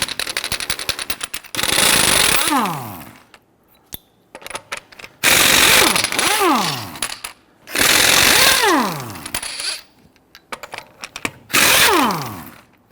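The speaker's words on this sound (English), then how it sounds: "Using a 19mm socket, we're going to go loosen and remove our lug nuts." An impact tool or wrench with a 19mm socket loosens and removes the lug nuts on a front wheel of a 2010–2019 Ford Taurus, giving several close, loud whirring bursts with falling pitch, separated by short clicks and pauses.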